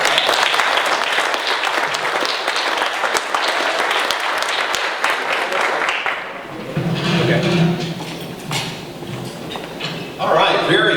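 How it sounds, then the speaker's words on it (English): Audience applause at a Rotary club meeting, honoring a sportscaster: dense, loud clapping for about six seconds, then tapering into looser claps and room murmur, with voices talking over the end. "they'll just give me a round of applause for John"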